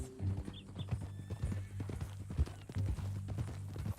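Horse hooves clip-clopping at a walk in Red Dead Redemption 2, a steady close rhythm on a ranch track, with a brief whinny and low rumble underneath.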